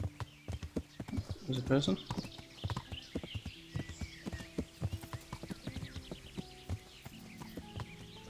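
Horse hooves clip-clopping in Kingdom Come: Deliverance, a brisk, regular gait of clear hoofbeats throughout, with a brief snort or whinny early on and someone talking over it.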